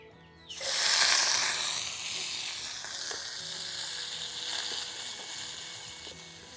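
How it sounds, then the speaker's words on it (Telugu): Small nethallu fish dropped into hot oil burst into a loud, bright sizzle that swells quickly, then settles into a steady, softer frying hiss with faint crackles, close by. "కొంచెం నూనె వేసుకొని వేపుకోవాలి. ఆ నూనె కాగినాక వేపుతాను చూడండి."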